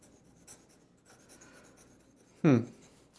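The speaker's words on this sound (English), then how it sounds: "Fast writing." A stabilized wood fountain pen with a #8 nib is scratched quickly across paper in short strokes, faint and close, ending in one louder scrape.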